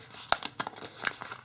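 A sheet of origami paper creased into a pentagon is opened out flat, giving a few short crisp crinkles and rustles close by in a quiet room.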